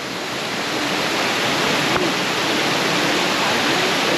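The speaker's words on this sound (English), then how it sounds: "It's a waterfall. That's a waterfall." A waterfall roars steadily and close by, a broad, even rush of falling water that continues evenly throughout with no voices.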